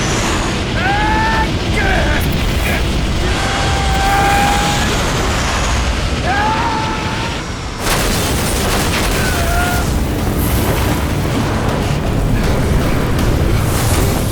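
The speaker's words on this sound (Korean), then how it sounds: "그리고 약속대로 비행기는 폭발해버리죠." An airplane blows up in a dramatic film scene, heard as a loud, sustained roaring blast with rumbling debris, a brief cut partway through, and faint higher whistling tones over the thick noise.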